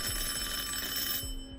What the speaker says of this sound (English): The silence of my flat was disturbed by the ringing of the doorbell.